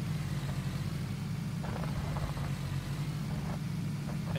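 A Volvo car engine in a video game hums continuously at a low, steady pitch with faint rattles over the top and no talking.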